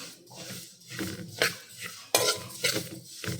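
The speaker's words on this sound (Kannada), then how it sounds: "ಇದೊಂದು ಕಲರ್ ಚೇಂಜ್ ಆಗೋವರೆಗೂ ಹುರಿಬೇಕು ಇದನ್ನು" Vermicelli roasts dry in a pan while a spoon stirs it, giving uneven scraping and rustling strokes with a few sharper clinks of metal against the pan, close and moderate.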